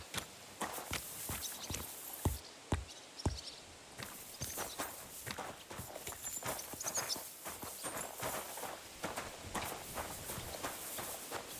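Horse hooves clip-clopping at a walking pace in the video game Kingdom Come: Deliverance II, a rhythmic series of hollow knocks with some louder strikes early on, over a soft background hiss.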